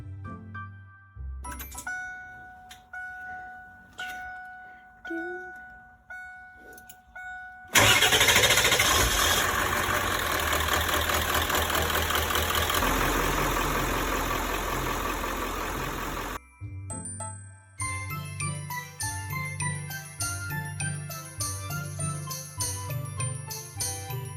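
A 1995 ambulance engine, fitted with a new alternator and charged batteries, turns over after a few warning chimes and catches with a loud roar, then settles into a steady close idle.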